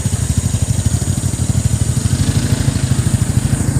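Motorcycle engine idling steadily close by at the scene of a truck accident on a road in Pandi, Bulacan, with a low rhythmic chugging that stays even throughout, no voices.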